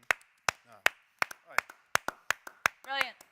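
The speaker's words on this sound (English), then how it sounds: "we need to clap for Mitoma for just 20 seconds" Sharp hand claps ring out in an uneven sequence, about a dozen in quick succession, with brief speech sounds between them, as people applaud footballer Mitoma.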